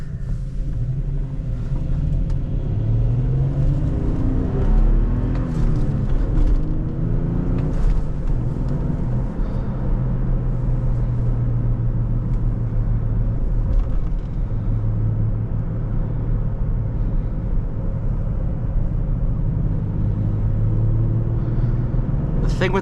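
A 2019 Toyota Tacoma TRD Sport's V6 engine drones steadily at close range, a deep low rumble with shifting pitch as it pulls through the gears of its manual transmission, with someone talking over it.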